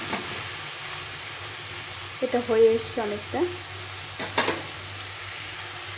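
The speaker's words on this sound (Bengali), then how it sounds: "এইভাবে ভালো করে কষিয়ে কষিয়ে রান্না করে নিতে হবে" Shredded cabbage for a Bengali cabbage ghonto sizzles steadily in a pan while being stirred and cooked down, with a voice speaking briefly over the soft frying.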